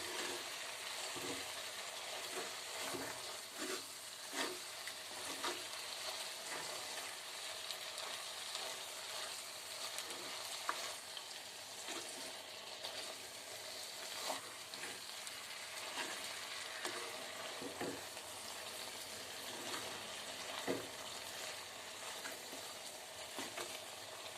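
Soya chunks frying in a pan with salt, stirred steadily, giving a continuous close sizzle broken by soft scraping strokes of the spoon, with no talking.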